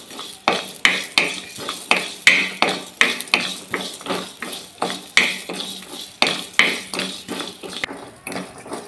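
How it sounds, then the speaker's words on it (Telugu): Coconut pieces dry-roasted in a hot pan, a spatula scraping and knocking against the metal in a quick, regular rhythm of sharp stirring strokes, close and alone. "కొబ్బరికాయ ముక్కలు కూడా దీంతో పాటు బాగా ఉట్టిగా ఇలాగ వేడి మీద వేపాలి బాగా"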